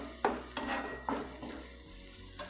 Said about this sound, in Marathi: आता हे सर्व मिश्रण एकजीव करून घ्यायचे